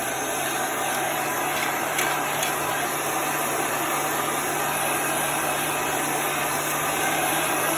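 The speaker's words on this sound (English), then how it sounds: "Now I'm just blowing regular air on it. No heat to get it back down to temperature." A heat gun blowing unheated air onto a chalkboard, a constant loud whirring fan drone with a steady hum that holds without change throughout.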